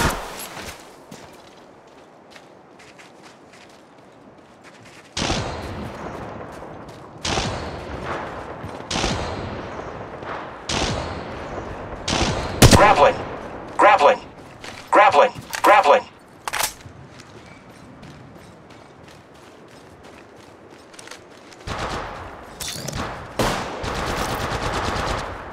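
Gunfire in the video game Apex Legends Mobile: repeated bursts of rapid automatic shots in clusters separated by quieter gaps, loud and close, with game voice callouts between.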